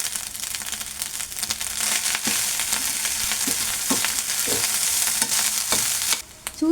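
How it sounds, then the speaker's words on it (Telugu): Egg fried rice with onions being stir-fried in a pan: a continuous loud sizzle and hiss, broken by repeated scraping and tossing strokes of the stirring utensil, with no talking. "ఆనియన్స్ కూడా వేసి మిక్స్ చేసుకుంటున్నాను"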